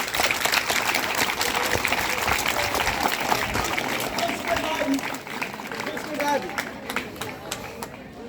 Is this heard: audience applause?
yes